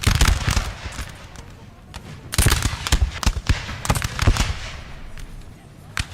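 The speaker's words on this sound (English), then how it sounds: "The officer will shoot every once in a while." Gunfire from an officer and troops in a Napoleon: Total War game mod, sharp cracking shots in irregular clusters and volleys, some close and loud, others fainter, with a voice speaking faintly between them.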